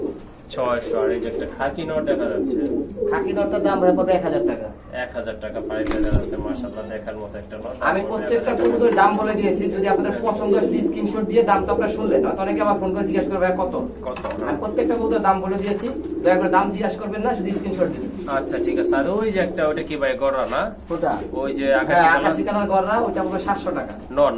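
Rajgolla pigeons, including a white-and-black bird, coo steadily at close range while someone talks almost continuously over them.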